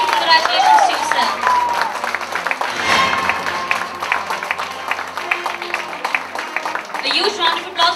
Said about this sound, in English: A huge round of applause for the Dynamic Entrepreneur of the Year